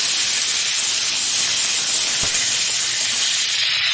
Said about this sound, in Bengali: এখন এই তেলেই দিয়ে দেবো কিছুটা পরিমাণে পুদিনা পাতা।